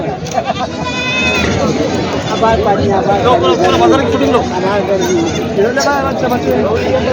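Many goats and kids bleating loudly and continuously, close and overlapping, amid the chatter of a busy crowd at the Parbhani Khandoba goat market.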